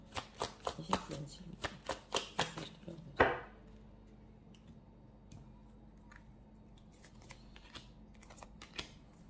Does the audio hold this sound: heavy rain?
no